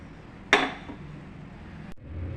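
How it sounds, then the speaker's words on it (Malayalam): A pressure cooker lid shuts with one sharp metallic clank, then a brief quieter knock, while a pot of beef with chilli powder, pepper powder and salt is prepared for a Kerala-style beef dry fry in a home kitchen. "ഈ പൊടികളൊക്കെ ഇട്ട് നമുക്ക് കുക്കർ അടയ്ക്കാം"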